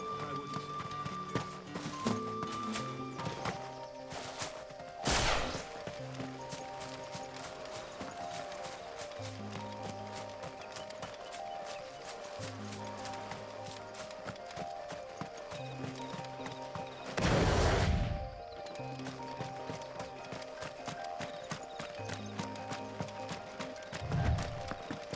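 Steady rhythmic clip-clop of horse hooves from a ridden mount in Final Fantasy XVI, continuous over game music, with a couple of louder snorts or whinnies partway through.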